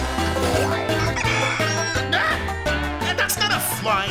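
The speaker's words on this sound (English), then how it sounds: "it's a chicken switch!" A cartoon chicken clucks from a switch in a kids' monster-truck game show, the bright clucks cutting through cheerful background music and voices.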